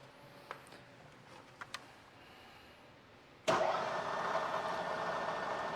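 A Bridgeport mill starts cutting a modified dually wheel at about 200 RPM: quiet shop hum, a few faint clicks, then an abrupt, loud, steady broadband machining roar that continues to the end.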